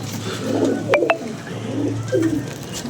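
Pigeons coo in soft, low, repeated phrases close by, with a couple of short high chirps in between and steady background hum.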